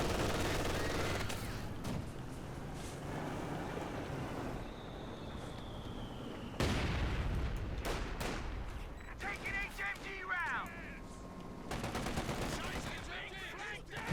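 Machine gun bursts and scattered gunfire in a Company of Heroes 2 1v1 match on the Hachiko map, with repeated rattling volleys and distant explosions mixed with game ambience throughout.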